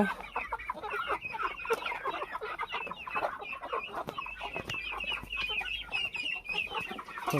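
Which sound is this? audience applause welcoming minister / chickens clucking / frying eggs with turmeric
chickens clucking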